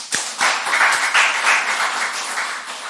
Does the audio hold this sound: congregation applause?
yes